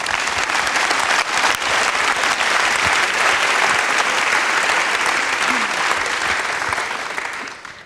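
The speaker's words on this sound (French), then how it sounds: "On vous applaudit." An audience at a university academic opening ceremony in Louvain claps in a long, dense, even burst of applause that holds steady and then begins to fade at the end.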